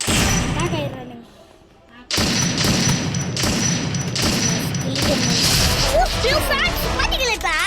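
Rapid bursts of video game gunfire crackle loudly in repeated volleys after a brief quiet stretch, with game sound effects and chirping tones mixed in.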